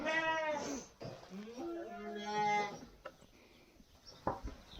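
Sheep in a barn bleat in a few drawn-out, wavering calls close by, with quieter shuffling between them and soft background noise.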